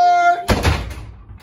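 A door shutting in a hallway: after a held musical tone cuts off, one loud, close thud lands with a boomy low rumble that slowly decays.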